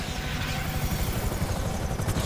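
Helicopter in Grand Theft Auto V during a heist raid on a government bureau: a continuous low rotor chop and engine rumble, steady and fairly close, running through the whole stretch with no voices over it.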